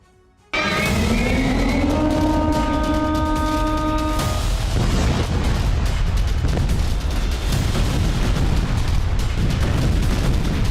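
Missile strikes exploding on Israeli cities during an Iranian attack, a sudden deep roaring blast after a short quiet start, a brief rising tonal whine, then sustained loud rumbling and crackling to the end.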